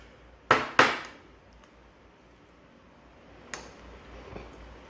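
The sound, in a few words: stirring a Body Mission meal-replacement food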